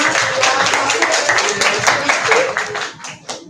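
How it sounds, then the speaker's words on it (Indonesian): Close, lively clapping from students at a school legal outreach session, applauding group 1 after a game, a brisk burst of many hands that thins out toward the end with a few last claps. "tepuk tangan untuk kelompok 1 ya"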